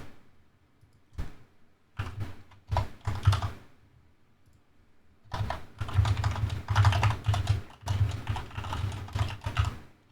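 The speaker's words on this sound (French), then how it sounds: "Alors par contre le clavier est ultra bruyant, je suis désolé d'avance." Loud, clattering keystrokes on a noisy computer keyboard, starting with a few isolated clicks and then breaking into dense, rapid bursts of typing, close to the microphone with no voices.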